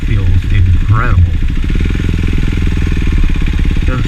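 A KTM Duke 390 motorcycle fitted with a barrel slip-on exhaust runs loud and close, its steady engine drone rising in a brief rev, with a rider's voice talking over it throughout.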